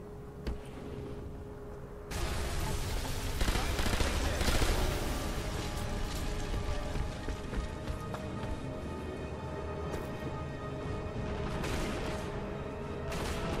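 Thompson submachine gun fire in the World War II shooter Sniper Elite V2 forms dense, continuous rattling bursts over a busy game soundscape, steady and fairly loud after a quieter opening.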